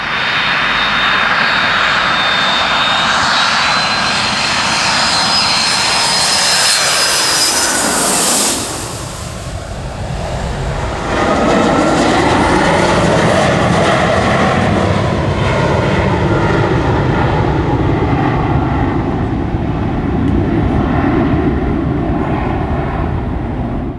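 Jet engines of a Royal New Zealand Air Force Boeing 757 transport roar loudly and steadily for the whole stretch, with a sweeping pitch shift partway through and a whining high tone early on.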